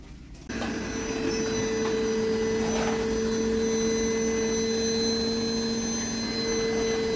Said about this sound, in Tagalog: He wants to vacuum all the carpet.